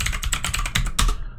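Computer keyboard keys typed in a quick burst of about eight close clicks while entering a folder name, ending with a slightly heavier keystroke.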